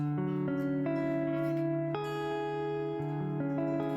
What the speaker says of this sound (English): we have a 9 augmented 11 chord